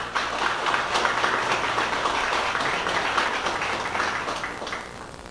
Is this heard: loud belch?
no